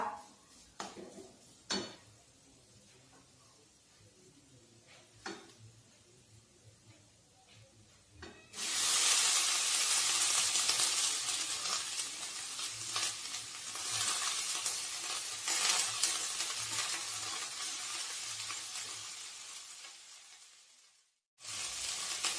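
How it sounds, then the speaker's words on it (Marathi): Fenugreek leaves tossed into a peanut mixture and stirred on low heat, with a loud steady sizzle bursting in after a quiet start with scattered utensil clicks, then cutting out briefly near the end. "आता आपण मेथीची भाजी छान मिक्स करूया।"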